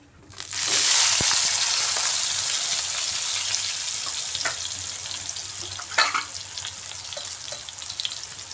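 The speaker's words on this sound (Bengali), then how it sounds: "প্রথমেই বেগুনগুলা ভেজে নিচ্ছি।" Eggplant pieces fry in hot oil with turmeric, a loud, steady sizzle that swells in at the start and holds throughout, with a few faint utensil clinks and no voices.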